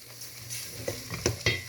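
Yogurt goes into a pan of frying masala for an eggplant and chickpea curry, bringing a brief sizzle and a few short scraping stirs of a spoon against the pan, close and clear with no voice.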